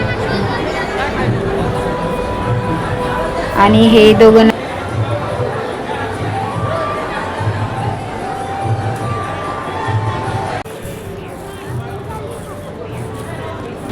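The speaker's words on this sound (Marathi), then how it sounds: "खूपच गर्दी आहे" Wedding guests fill a crowded hall with steady loud chatter and hubbub, voices of adults and children mixing throughout, with a brief louder burst of shouting and a nearby voice speaking over it.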